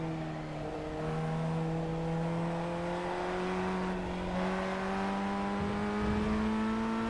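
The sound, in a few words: FF1600 race car engine lifting off throttle in iRacing video game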